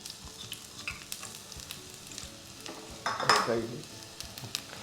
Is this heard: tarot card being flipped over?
no